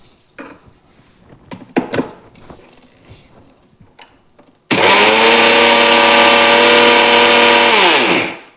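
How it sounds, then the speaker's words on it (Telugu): A kitchen mixer grinder whirs loudly as it grinds mustard seeds, running at a steady high pitch for several seconds before winding down. A few quiet clinks and handling knocks come before it starts. "ఆవాలు కూడా మిక్సీ పట్టేసుకున్నాం"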